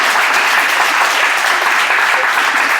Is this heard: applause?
yes